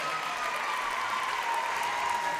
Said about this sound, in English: Can we please stand up and give a huge round of applause for our